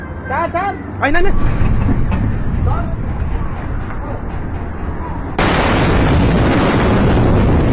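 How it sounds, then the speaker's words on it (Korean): A powerful explosion near a house fire booms and sends a shockwave through the scene, a sudden loud roar after a few short tonal cries, with a voice talking over it. "엄청난 폭발음과 함께 충격파가 남자를 덮쳐"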